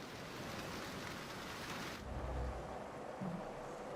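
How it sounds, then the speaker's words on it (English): Rain and thunder outside in Jurassic World Evolution 2, a steady wash of rainfall that briefly thins before a low thunder rumble rolls in, with no talk. "So, rain outside."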